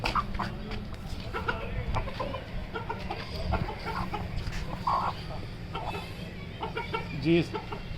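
Aseel chickens clucking in short bursts nearby, mixed with a background hum and occasional people talking.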